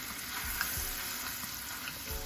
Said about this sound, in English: that's why I have some of that white sugar too to caramelize these bananas